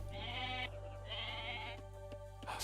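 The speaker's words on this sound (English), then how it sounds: "The sheeps are nice and ripe." Sheep in the game Age of Mythology bleat twice in quick succession, close and clear over a steady low game hum, followed by a few soft clicks.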